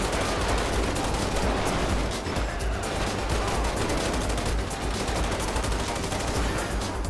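Automatic weapons fire in GTA 5 during a SWAT police shootout, a relentless loud barrage of rapid overlapping shots that continues without pause for around seven seconds.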